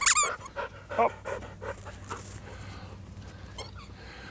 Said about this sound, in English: What a playful puppy.